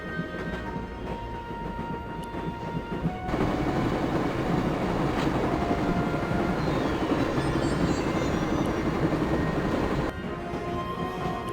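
A train ride in the Broken Sword video game sounds as a steady rumbling, rattling roar of rolling carriages, loud and continuous, swelling louder midway before easing back.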